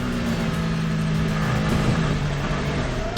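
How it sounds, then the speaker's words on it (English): From inside the number 8 endurance race car during qualifying at the Qatar 1812 km, the engine drones loud and constant at close range, holding a steady high-revving tone with slight pitch shifts throughout. "Riding on board again with the number 8 car, Brendan Hartley."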